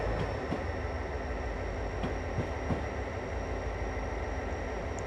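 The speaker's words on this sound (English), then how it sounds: "It must have been that train that went by?" A train rolls past in the video game Train Simulator 2020, a continuous rumbling roar of rail cars with rhythmic wheel clicks over the joints, close and steady throughout.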